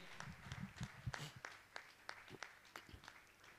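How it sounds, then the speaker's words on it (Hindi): An audience at a Jain religious gathering honoring a guest with sparse, uneven claps that sound distant and fairly soft, tapering rather than building into full applause. "जोरदार ताली बजाकर इनका सम्मान करें।"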